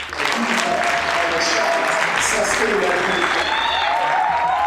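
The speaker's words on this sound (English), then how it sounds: "could we all just please give them a crazy round of applause?" An audience breaks into a loud, sustained round of applause and cheering at a science-themed show, dense clapping rising quickly and holding steady throughout.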